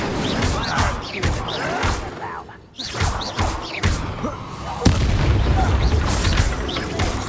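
Incendio fire spell blasts in Hogwarts Legacy combat land as a string of loud, punchy booms and crashes, one after another, over a dense backdrop of game effects.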